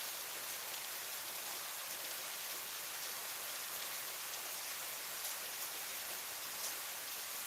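Heavy rain pours down in a dense, steady hiss with no letup, even and continuous from start to finish, with no voices.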